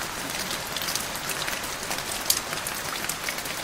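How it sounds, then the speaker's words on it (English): Steady rain falls and patters on a surface, a dense, even hiss with scattered drop ticks, moderately faint and without voices. "What sound does the rain make on your window?"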